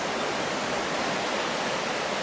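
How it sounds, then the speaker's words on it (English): A river in the Appalachians rushes steadily, a broad, continuous hiss of flowing water that stays even throughout with no voices. "Look at this river."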